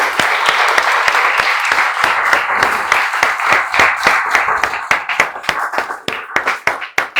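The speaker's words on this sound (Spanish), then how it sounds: "Yo quisiera que le diéramos un aplauso" Audience applause at a literary gathering, dense clapping at first that thins out into scattered, distinct claps toward the end, close and loud.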